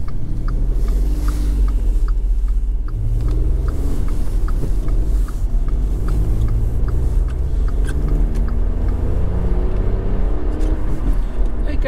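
A VW Up city car, towed A-frame style in other use, drives with a steady low engine rumble and road noise throughout, picking up pace without any speech over it.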